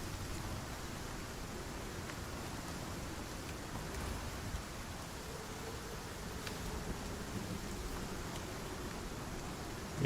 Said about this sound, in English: You can hear the wind starting to pick up.